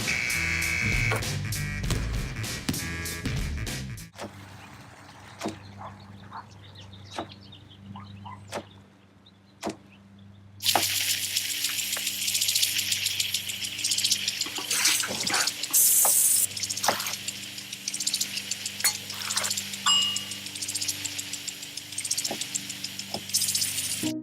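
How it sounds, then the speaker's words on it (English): Tap water runs steadily into a kitchen sink while surfaces, utensils and hands are washed with soapy water. The stream starts partway through and then flows loud and continuous, with scattered drips and clatter before it. "Clean kitchen surfaces, utensils, and hands with soapy water."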